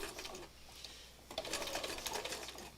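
A sewing machine sews along layered fabric scraps with the presser foot edge guiding the seam, a close steady whirring run that slows briefly and then picks back up.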